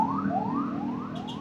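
An ambulance siren on a road near Tagaytay, a loud, steady wailing sweep that rises repeatedly in quick cycles, heard close over constant traffic rumble.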